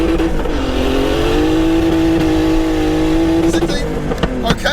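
A turbocharged 403 bhp BMW E36 323i track car revs hard at launch, its engine droning loud and close with the tyres spinning, then the pitch climbs near the end as it pulls away; a voice is heard briefly.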